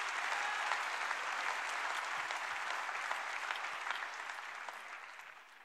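A church congregation clapping hands together in a sustained, crowded round of applause, strong at first and gradually fading toward the end.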